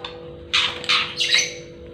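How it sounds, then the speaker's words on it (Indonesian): A white-rumped shama gives three bright, harsh calls in quick succession over a steady low hum, each a short burst of squawky, chattering notes. "silangan antara murai Medan dengan murai Borneo atau murai Kalimantan"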